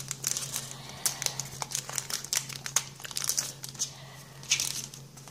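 Foil wrapper of a Pokémon trading card booster pack being torn and crinkled open by hand, a close, steady run of sharp crackling and crinkling bursts with no talk.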